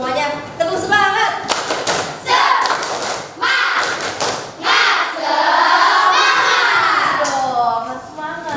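An Indonesian classroom of children doing the rhythmic 'tepuk semangat' spirit clap, loud patterned claps and thumps from the whole class mixed with children's shouting and a teacher's voice.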